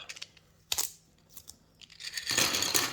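Strong paper tears and crinkles while a 3D printed item is unboxed. Light rustles come first, then a loud, sustained ripping and crumpling close up toward the end.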